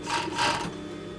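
A sewing machine stitches reusable makeup wipes in one short, steady, close burst of whirring.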